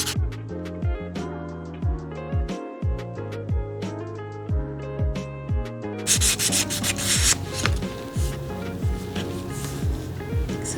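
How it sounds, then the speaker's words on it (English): Sandpaper rubs against the legs of a miniature wooden record cabinet in steady back-and-forth strokes, close and continuous, with a brief break before the rubbing gets rougher and brighter. "So I'm gonna just kind of try to sand like round these legs off a bit."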